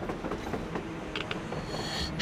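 Train rumbling past in the video game Metro Exodus, a steady broadband rolling noise with faint clatter and a brief hiss near the end, sustained throughout without talk.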